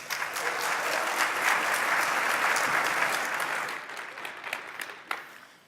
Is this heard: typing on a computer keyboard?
no